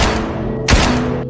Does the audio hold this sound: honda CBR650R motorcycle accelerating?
no